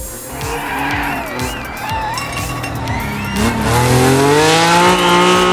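A rally car in Assetto Corsa Rally races loudly and continuously, its engine rising and dropping through rapid gear changes while tires skid and squeal on the surface, building to a sustained high rev toward the end.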